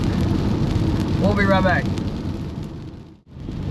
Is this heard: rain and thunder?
yes